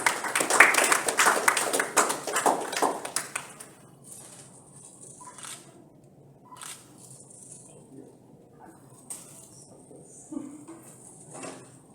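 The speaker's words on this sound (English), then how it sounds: "Big round of applause for you guys." Audience applause at a Rotaract Club of Colombo installation ceremony: a burst of clapping for about three seconds that quickly dies away, followed by a quiet room with scattered light clinks and taps.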